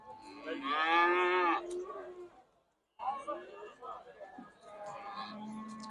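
Cattle at a livestock market in Kyzylorda: a loud, drawn-out moo close by, followed by lower lowing and market noise with people talking nearby.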